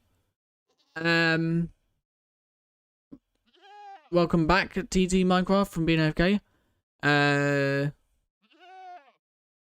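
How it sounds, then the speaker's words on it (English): Loud, high-pitched screaming goat screams from Minecraft ring out in several separate bursts, with someone talking between and over them. "Let's now summon a screaming goat in here"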